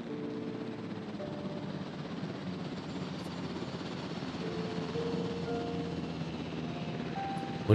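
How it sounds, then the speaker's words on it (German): Helicopter in the Jurassic World Evolution park-building game, a steady distant rotor drone with faint tonal hums layered over it, continuous and moderately quiet with no talk. "Wie ist das so mit die Helikopter?"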